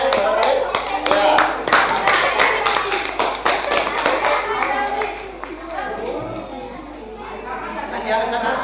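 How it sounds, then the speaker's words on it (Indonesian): A classroom or workshop audience claps for a presenting group, a dense patter of hand claps running throughout, with voices chattering underneath. "Tepuk tangan untuk kelompok 5."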